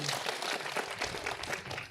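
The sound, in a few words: audience applause for Anies Baswedan in Gorontalo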